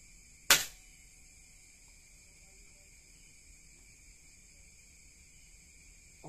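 A single sharp crack of an air rifle shot with a Dr.Slug A10 barrel, brief and punchy, followed by quiet with a steady high-pitched hum in the background.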